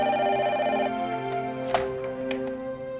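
A telephone rings indoors with a steady electronic tone, loud and continuous for about the first second, then thinner ringing tones continue under faint background sounds.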